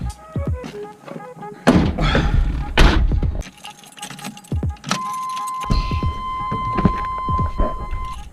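Keys jangle and clink close by in and around a Chevrolet Sonoma pickup truck, coming in several short bursts mixed with thumps and a door-like thud, then a steady chime.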